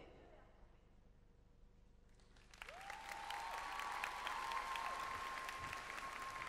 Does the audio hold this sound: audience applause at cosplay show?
yes